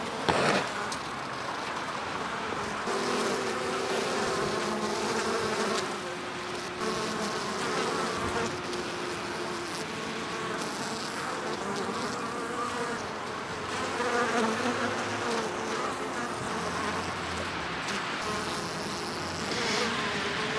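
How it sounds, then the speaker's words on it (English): A dense, continuous buzz of many honey bees at a hive entrance, steady and loud throughout with no talking. "I'm not seeing any powdered bees coming in for this hive"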